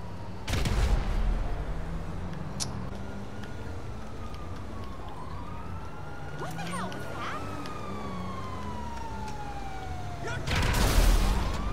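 A police car siren wails steadily throughout a chase in the video game Grand Theft Auto V, its rising and falling tone sweeping over engine rumble, with loud crashes or gunfire bursts near the start and end.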